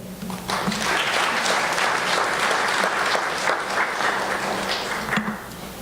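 Warm, sustained audience applause fills the hall at a Guyana Golden Arrowhead presentation, dense and even, holding strong for several seconds before tapering slightly near the end.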